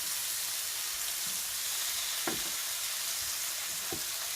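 Tandoori-masala-coated pomfret fish frying on a tawa over low gas, a steady soft sizzle throughout with a couple of brief louder crackles and spatula touches.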